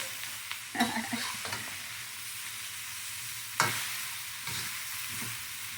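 Mushrooms and broccoli stir-fried for vegan mapo tofu: a steady sizzle runs throughout, broken by a few sharp scrapes and clatters of the utensil against the pan, close and moderately loud.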